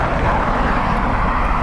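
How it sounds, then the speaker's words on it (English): Aer Lingus airliner landing at Dublin Airport: a loud, steady broadband jet roar, heavy in the low end, holding constant through a short moment with no talk. "He's holding for the Aer Lingus landing."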